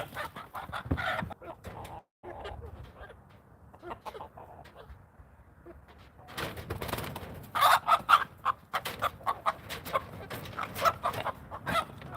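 Brahma chickens cluck on a farm before being put out to free range, a scatter of close, repeated clucks and squawks in bursts, busier toward the end, with no talk.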